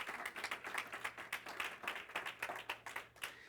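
A church congregation breaks into quick, dense clapping, a steady patter of many hands at moderate distance, sustained without a break and with no voices over it.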